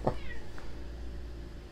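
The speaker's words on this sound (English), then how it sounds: "my cat just meowed when I said February" A pet cat gives one short, close meow at the very start, then quiet room tone follows.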